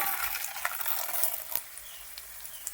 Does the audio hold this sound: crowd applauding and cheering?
no